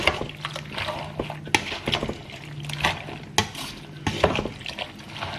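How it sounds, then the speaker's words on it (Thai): Wet, irregular stirring and squelching of raw bamboo shoots and pork belly being mixed in a pot, with soft clicks and scrapes repeating close by. "โอเคเราจะคลุกเคล้าให้เข้ากันเนาะ"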